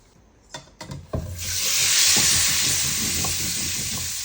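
Eggs fry in a pan with turmeric. A few clatters and knocks come first, then a loud, steady hiss and sizzle rises and carries on, with faint crackles underneath.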